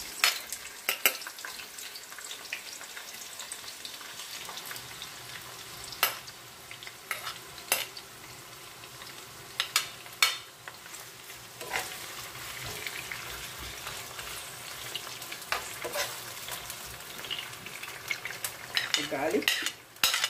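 Chopped onion sizzles in a hot pan with a steady crackle while a utensil stirs and scrapes it in frequent sharp strokes, close and fairly loud across the whole stretch.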